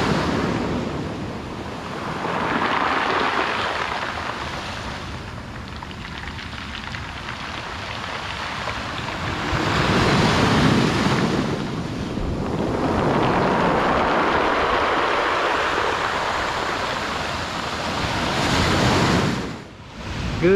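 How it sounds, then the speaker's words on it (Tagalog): Strong ocean waves pounded by a typhoon, surf roaring loud and continuous in broad swells that rise and fall over about twenty seconds, with wind buffeting the microphone and no voices. "Malakas ang alon dahil sa bagyo."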